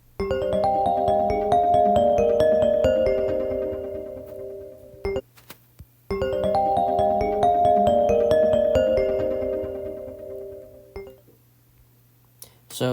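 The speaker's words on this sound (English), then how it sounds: "So that is the new ringtone that has been added." Alternative Reflection ringtone on an iOS 26 iPhone, a glassy, chiming melodic pattern of plucked bell tones played twice in a row, each pass about five seconds long, with a brief gap between them.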